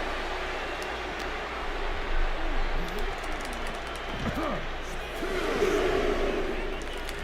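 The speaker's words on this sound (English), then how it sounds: "This Canadian biased crowd continues to let Shawn Michaels know what they think about him." A Canadian arena crowd in the WWE 2K26 video game rumbles and jeers at Shawn Michaels, a dense steady roar with swelling surges, and a commentator's voice talks over it.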